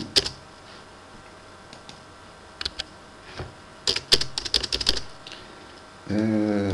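Scattered key taps on a computer keyboard, sparse at first then a quick rapid burst of close clicks, before a voice begins speaking.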